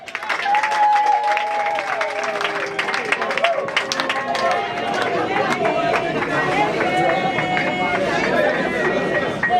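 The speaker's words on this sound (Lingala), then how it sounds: "je nous prie de l'applaudir très fort" A crowd at a birthday party claps and cheers loudly amid lively chatter, with shouting voices and busy party noise layered over the continuous clapping.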